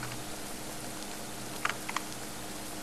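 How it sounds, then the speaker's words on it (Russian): Soft, steady rain falling in the video game Pocket Mirror, a constant faint hiss with a few light drips or taps near the middle. "О, дождик идет."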